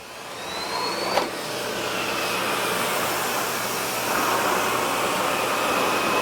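A SEBO Airbelt E2 Turbo vacuum sucks a pile of sand off a bare floor, producing a loud, constant motor whine and suction rush, with a sharp click of grit near the start.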